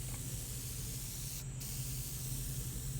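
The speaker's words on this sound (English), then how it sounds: "it gets a few coats of paint of the vinyl dye" Vinyl dye being sprayed from a can onto a part outdoors, a steady close hiss of spray over a constant low hum that lasts the whole time.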